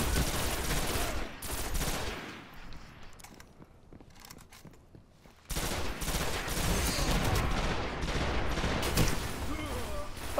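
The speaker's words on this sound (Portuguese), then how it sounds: "Matei com tiro." Gunfire rattles through a Crucible match in the video game Destiny: The Taken King, with dense bursts of shots, a quieter lull in the middle, then sustained firing again, mixed with other game effects and faint voices.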